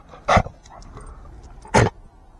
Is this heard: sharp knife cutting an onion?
no